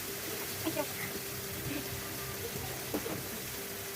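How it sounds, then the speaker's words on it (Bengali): Fish pieces fry in hot oil in a kadai with a soft, steady sizzling hiss that stays faint and even throughout, marked by a few small crackles. "মাছের পিসগুলো কড়াইয়ে দিয়ে দিয়েছি ভাজার জন্য।"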